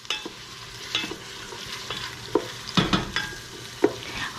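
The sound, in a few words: onion frying and being stirred in oil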